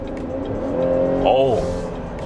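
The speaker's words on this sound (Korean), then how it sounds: "이 상태에서 제가 다시 킥다운을 하면" Chevrolet Traverse SUV engine surging under a full-throttle kickdown, revs climbing sharply mid-clip before easing back, heard from inside the cabin as a steady drone.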